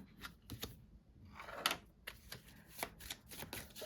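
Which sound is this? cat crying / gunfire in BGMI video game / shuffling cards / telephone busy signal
shuffling cards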